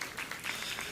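A dense, steady wash of audience applause fills a hall at a society's silver jubilee celebration, constant and fairly close throughout the short moment with no separate claps standing out.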